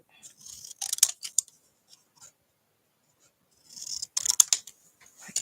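Paper being cut with scissors during a crafting session with an Impressions Abloom stamp and die bundle: two bursts of crisp snipping and rustling, one early and one near the end, separated by quiet, close and moderately loud.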